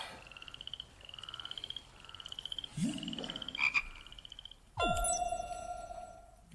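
Frogware studio logo from the Sherlock video game: rhythmic frog croaks pulse steadily, then a swelling synthetic sweep and a sharp electronic ping ring out clearly.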